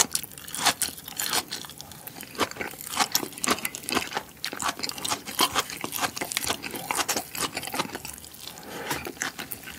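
Close crunching and chewing of crisp vegetables eaten with soft-boiled soy-marinated eggs over rice, with dense, steady bites and mouth sounds throughout and no talk.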